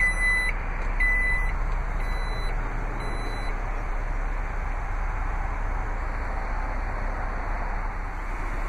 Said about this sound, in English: button to close your power lift gate.